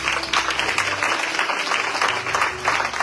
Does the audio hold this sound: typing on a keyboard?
no